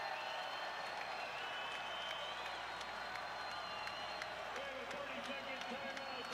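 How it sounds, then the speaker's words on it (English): A large basketball crowd cheers and applauds steadily, a dense roar of clapping and voices that holds without letup. "Listen to the crowd."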